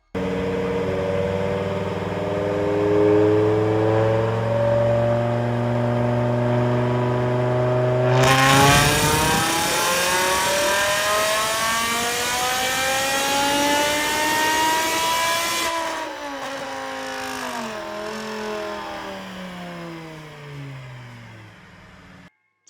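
A BMW E60 M5 V10 winds up on a dyno in 5th gear, climbing steadily in pitch through a long, loud pull. A harsh roar bursts in at full throttle, then drops off as the engine coasts back down.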